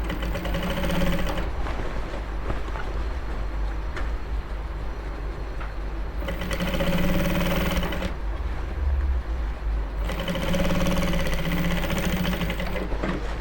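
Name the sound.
sewing machine stitching Ankara fabric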